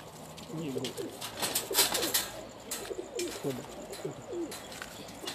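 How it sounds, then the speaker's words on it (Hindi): A pigeon on a rooftop coos in repeated throaty rolling phrases, close and fairly loud, with other birds faintly around and brief background noise. "ये एक और कबूतर आ गया जी इनका।"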